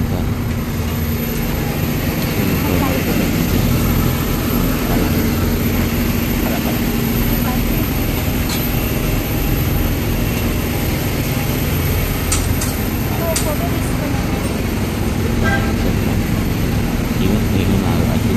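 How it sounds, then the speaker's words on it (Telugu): Airliner touching down and rolling along a runway, heard from inside the cabin as a steady loud roar of engines and wind rumble throughout. "సో ల్యాండ్ అయిపోయాం. So safe landing, success."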